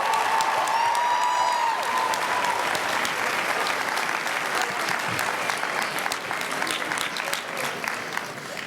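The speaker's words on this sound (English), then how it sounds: "Please give these students one more round of applause." A graduation audience gives sustained applause for students, a dense crowd of clapping with a brief cheer or whistle near the start, gradually easing in strength over about nine seconds.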